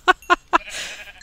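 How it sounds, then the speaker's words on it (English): Sheep in the video game New World bleat three times in quick succession, loud and close, followed by a softer noisy wash of game sound. "Okay, two sheep."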